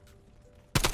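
AK74u gunfire in the video game Cold War: a quiet low hum, then a sudden loud burst of rapid automatic shots in the final moments.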